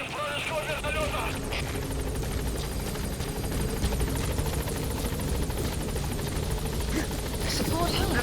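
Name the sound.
helicopter flying in video game Metal Gear Solid V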